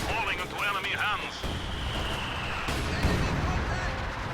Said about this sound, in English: So the heavy mortar will continue to bombard this defensive position